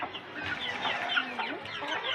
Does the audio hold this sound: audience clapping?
no